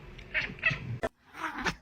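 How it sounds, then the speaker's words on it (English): A cat shut inside a kennel meows loudly in several drawn-out, complaining cries, close to the microphone with a short gap between calls. "he closed the cat in the kennel"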